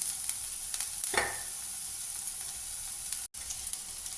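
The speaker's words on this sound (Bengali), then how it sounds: "1 চামচ তেল দিয়ে দিয়েছি এর মধ্যে, দিয়ে এটা ভেজে নিচ্ছি" Onion fries in a spoonful of oil for Maharashtrian-style kande poha, giving a constant bright sizzle throughout, one short scrape of stirring, and a brief dropout near the end.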